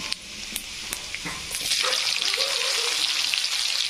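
Chopped onion dropped into hot oil with garlic, a few sharp spits at first, then a loud steady sizzle swelling and holding close up.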